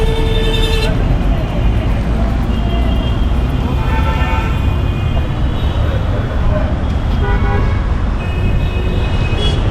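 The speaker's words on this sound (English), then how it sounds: "the cars will not stop for you" Dense, loud street traffic in South Mumbai, with car and bus engines rumbling close by and repeated horn toots cutting through, unbroken for the whole stretch.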